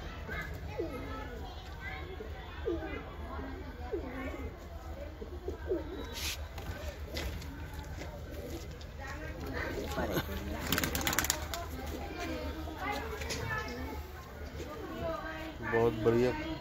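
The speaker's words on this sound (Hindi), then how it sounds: "ये बहुत शानदार कबूतर है" Pigeons, including a prized Madrasi bird and young birds, coo softly and repeatedly in a loft while children play and people talk nearby.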